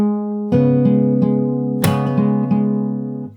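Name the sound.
fingerstyle acoustic guitar playing a song part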